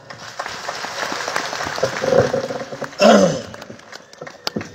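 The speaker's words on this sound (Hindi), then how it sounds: "जरा ताली बजाओ" An audience claps at a religious darbar gathering in Damoh, swelling loud and dense near the end, with chanting or calls mixed into the crowd noise.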